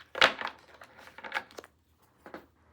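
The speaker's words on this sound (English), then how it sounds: "I shuffle until I get the feeling that I have shuffled enough." Tarot cards shuffled by hand at close range, a few quick soft riffling and rustling bursts followed by a pause and one last brief flutter, quiet overall.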